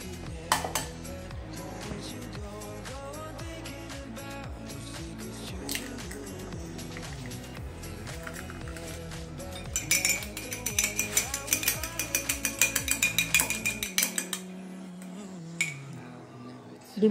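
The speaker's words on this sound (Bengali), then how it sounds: "এখন আমি একটা ডিম ফেটিয়ে নেব।" An egg is beaten in a bowl, giving fast rhythmic clinking of a utensil against the bowl that grows louder and quicker near the end, over background music.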